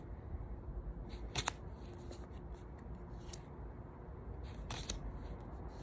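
Deck of indie tarot cards with pink gilding being shuffled by hand, soft riffling and flicking bursts in two clusters against a quiet background.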